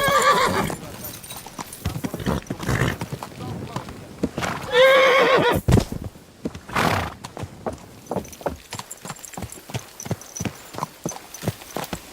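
Horse hooves clip-clopping with loud neighs in the medieval video game Kingdom Come Deliverance 2, close rhythmic hoofbeats on the ground with a sharp whinny, and voices talking over it.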